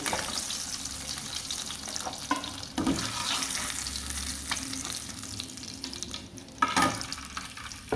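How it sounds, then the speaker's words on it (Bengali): Steady oil sizzle of tilapia fish frying, close and continuous, with occasional scraping and a couple of louder bursts of spatter. "মাছ ভাজা হয়ে গেছে, এখন আমি তুলে নেব।"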